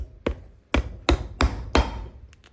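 A hammer drives nails into the heel of an Iron Ranger boot in five sharp, close, evenly spaced strikes, each followed by a brief ring-off and then quiet.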